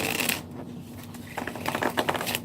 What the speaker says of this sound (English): And I shuffle them, and then I shuffle them,